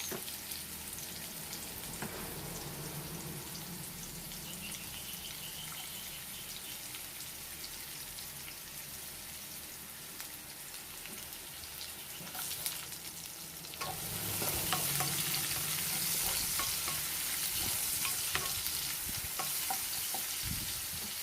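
Onion frying and browning in a pan while making vegetable lumpia, with a continuous sizzle that swells noticeably louder partway through, plus occasional light clinks and stirring.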